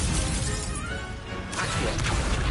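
An Incendio fire spell cast in Hogwarts Legacy gives a dense, loud crackling burst with a sharp, bright shattering onset about halfway through, over steady roaring noise.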